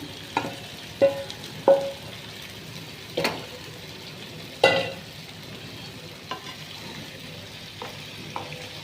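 Fish pieces go into a pan of masala for Andhra-style fish pulusu, giving soft frying sizzle with several short stirring scrapes and clinks spaced across the clip, close by and with no talk.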